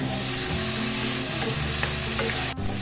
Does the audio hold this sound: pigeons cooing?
no